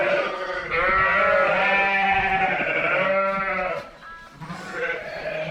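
Lambs bleat loudly and almost continuously, several overlapping cries close by, easing off briefly near the end before more bleats.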